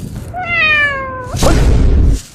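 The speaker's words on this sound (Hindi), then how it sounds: "अरे साला बिल्ली का क्यों बजा रहा है?" A cat meow sound effect plays as one clear, drawn-out meow with a falling pitch, followed by a loud noisy burst.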